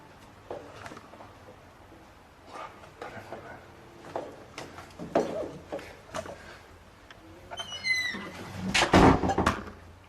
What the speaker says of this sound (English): 今ドアの音しました。